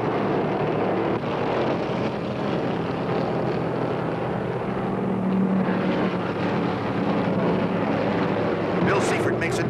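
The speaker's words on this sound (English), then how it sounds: "Isaac's Hemi sounds strong as he moves up on the inside to challenge Allison for the lead." A 1972 Dodge Charger Hemi stock car roars at the 1972 Motor State 400, a loud continuous engine drone blended with other race cars and crowd noise, under a commentator's steady voice.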